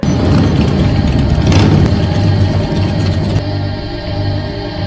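A group of motorcycles arriving together, engines idling and rumbling loudly and steadily up close, with a low throbbing drone throughout and no voices.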